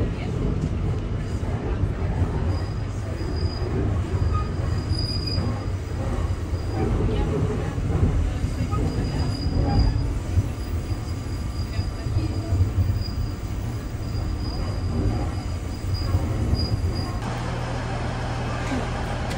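An airport train running on rails from Bloor station to Pearson Airport gives a steady, loud interior rumble throughout, with a thin, intermittent wheel squeal above it.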